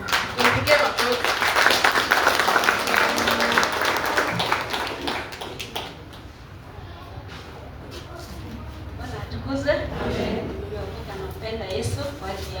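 A church congregation claps at a main Sunday service, a dense burst of applause for the first several seconds that thins out as a voice continues over lighter scattered claps and room noise.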